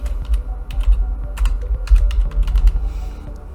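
Computer keyboard typing, a quick run of close, crisp key clicks in an irregular rhythm over a low hum, with no voices.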